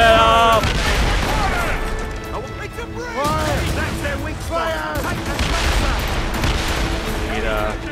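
Ship cannons firing in a naval battle in Assassin's Creed Rogue, loud booms and crashing blasts over a constant roar of sea and wind, with a voice shouting and talking over the battle.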